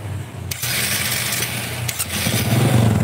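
A Honda Supra 125 motorcycle engine catches and runs, a steady loud rumble with a brief sputter early on, from a bike that stalls when hot.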